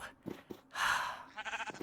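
Sheep in the Minecraft video game bleat in short, nasal calls, a few brief bursts followed by one longer bleat and a wavering tail, clear and close with no talk.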